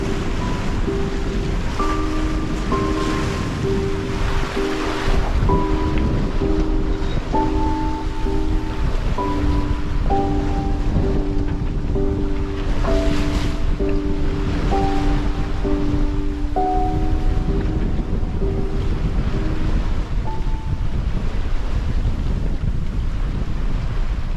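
Sailboat moving at several knots through Pacific Ocean swell, with steady wind rush and water noise rolling on without a break for the whole stretch and faint tonal hums layered over it, loud and close, with no voices.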